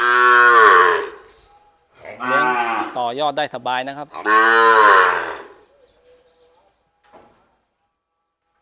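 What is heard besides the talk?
young cattle mooing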